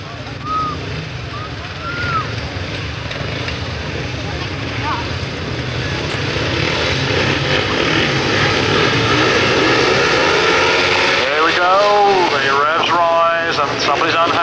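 Grasstrack racing motorcycle engines rev together at the start line of a 1991 meeting, a loud, sustained, rising roar from the pack that swells toward the end, with a commentator talking over it throughout.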